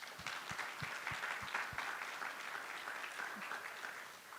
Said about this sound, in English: So big round of applause for all of them.